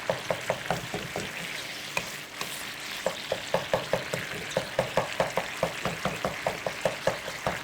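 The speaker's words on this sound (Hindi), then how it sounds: "इसके मसाले को भूनना है जल्दी।" Masala for turai (ridge gourd) frying in a pan, with a steady sizzle broken by regular rhythmic scrapes and clacks of a spoon stirring, close and moderately loud.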